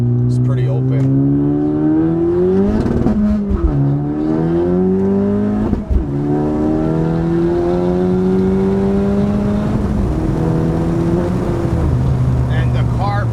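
A 2018 Honda Civic Si engine revs up through first gear with a rising, rough drone, briefly dropping and climbing again, loud and close.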